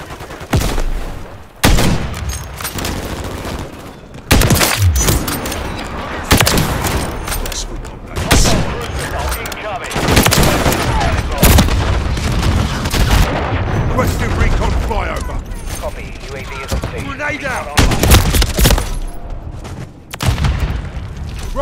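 Continuous gunfire and booms in Call of Duty MW3 multiplayer on the Rust map, with rapid repeated shots, heavy blasts and bursts packed closely throughout, loud and near, with voices calling out between them.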